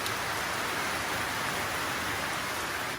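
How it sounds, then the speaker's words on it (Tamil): Rain pouring down in a village on a sunny day, a loud, even hiss of falling water that stays constant throughout with no voices. "அடிக்கிற வெயிலுக்கு ஒரு பக்கம் மழையும் பெய்யுது"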